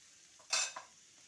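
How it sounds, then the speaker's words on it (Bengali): Kohlrabi and potatoes stirred in a frying pan, a brief scraping burst of sizzle and stirring rising out of a faint background hiss, then fading. "এবার আবারও ওলকপি আর আলুটাকে একসঙ্গে নেড়ে চেড়ে লালচে করে ভেজে নেব"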